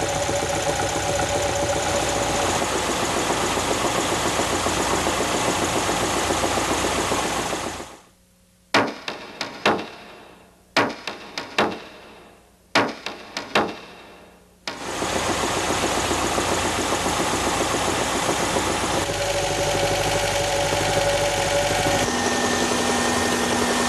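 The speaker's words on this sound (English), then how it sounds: "And when there's a lot of wear, it makes that kind of knock. When the engine's idling, Jim?" A worn engine idles with a steady, rapid mechanical knock, loud and close, running continuously apart from a break filled by a few sharp separate clatters before the idle resumes.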